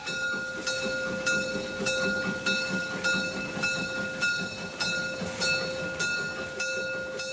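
Selketalbahn narrow-gauge train in the Harz with open cabrio cars, leaving Strassberg toward Stiege, rolls steadily with a rhythmic clatter of wheels over rail joints and a faint steady hiss, alone without talk.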